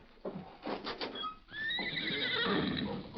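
A horse whinnies loudly and close, a long shrill neigh that rises and trails off, with a shorter snort-like call before it.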